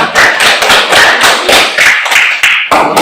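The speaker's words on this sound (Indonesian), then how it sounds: "Mari kita berikan aplaus kepada pembicara satu dan tim oposisi" Audience applause in a school debate hall, many hands clapping densely and steadily at close range for about three seconds, with no talk.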